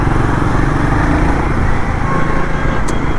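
A Royal Enfield Guerrilla 450 motorcycle is ridden on the road, its engine a loud, continuous close-up drone with wind rush. No voices are heard over it.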